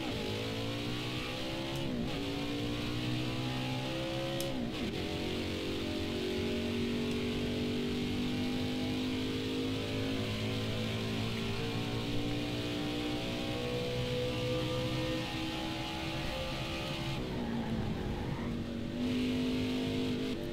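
A race car engine in a speedway racing video game runs at high, steady revs, a loud continuous whine with gear-like pitch changes and brief dips around shifts, close and alone without talk.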